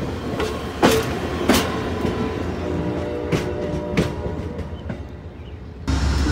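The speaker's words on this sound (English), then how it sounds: "The Amtrak Vermonter is leaving." The Amtrak Vermonter departs the station in Saint Albans, Vermont, with a loud, steady rumble of rolling railcars, rhythmic clickety-clack wheel beats and sharp metallic knocks, close by.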